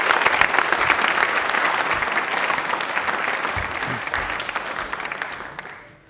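Enthusiastic audience applause at a televised Hindi quiz and singing program, a dense sustained wash of clapping from a studio crowd that fades out at the end.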